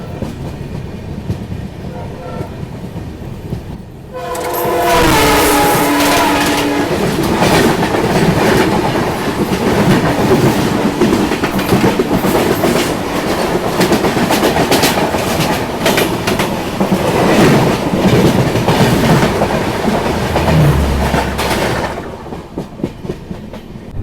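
The Vivek Express races past to overtake the Brahmaputra Mail, swelling in suddenly after a quiet start into a loud, sustained roar of wheels and rattling carriages with steady clickety-clack that persists close by before easing slightly at the end.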